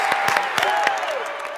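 Applause from a church children's audience for a grade-school cheer squad, a dense wash of clapping with a few sharper claps, close and steady under a faint sustained tone.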